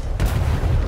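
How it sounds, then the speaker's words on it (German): Ship cannon firing in a sea battle in the video game Atlas: a single loud, booming shot with a dense low rumble that fills the short moment, no voices over it. "Nimm die linke Kanone."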